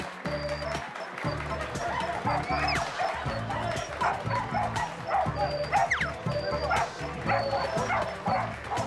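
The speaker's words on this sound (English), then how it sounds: "it's funny just watching him bark during the whole show" A dog barks repeatedly close by at a show, sharp rhythmic barks and yips in quick bursts over a noisy crowd, with some background chatter.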